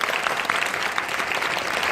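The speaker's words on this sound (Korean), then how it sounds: "정확하고 매끄러운 통역 수고해주신 강민아 통역가님께도 큰 박수 부탁드립니다." Continuous audience clapping at an animated film talk event, moderately loud and even across the whole stretch, many hands together with no voices standing out.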